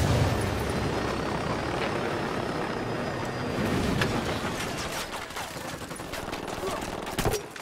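A helicopter in the video game Ghost Recon Wildlands thrums beneath bursts of automatic gunfire and scattered shots, the rotor drone continuous while voices call out over the firefight.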